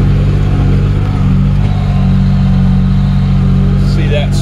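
A farm tractor's engine running steadily at 2,000 RPM while spraying fertilizer on a hay grazer field, a loud continuous low drone with a constant hum throughout.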